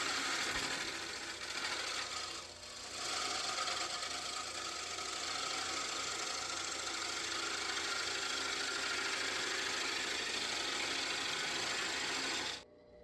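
A wood lathe spins a large walnut bowl while a scraper is pushed straight into the wood, producing a steady, continuous hissing and scraping drone with no pauses, ending abruptly.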